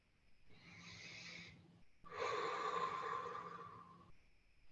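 Two soft, airy breaths, each drawn out for a second or two with a short pause between, are taken during a breathing exercise, faint and close in an otherwise quiet room.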